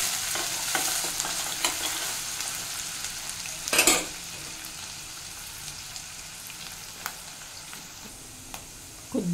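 Chopped onion fries with mustard seeds and cumin in hot oil, a soft continuous sizzle with occasional stirring scrapes and one louder clattering stir partway through.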